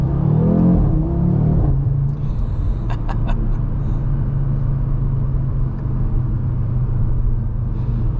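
Engine of a 2024 Audi RS 3 with a 7-speed dual-clutch gearbox, heard from inside during a drive: a loud rev swell at the start, then a steady low rumble and road drone, with brief shift blips.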